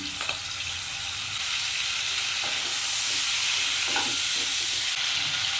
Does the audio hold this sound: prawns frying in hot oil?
yes